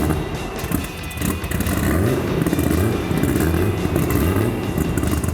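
Holden Torana race car at the Bathurst paddock running with a loud, rough, lumpy idle and burbling blips, steady and close throughout with no talking.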